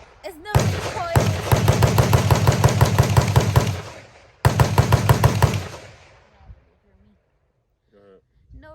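Rapid strings of .22LR pistol shots fired close by, two fast bursts of evenly spaced sharp pops separated by a brief gap, then quiet with a short voice near the end.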